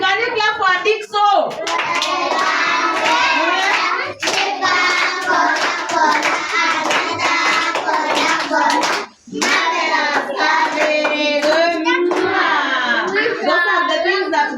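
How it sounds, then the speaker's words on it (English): Schoolchildren in a community school classroom clap for a classmate, a steady continuous patter of many small hands mixed with children's voices throughout, with a brief pause near the middle. "Can you clap for Dixo?"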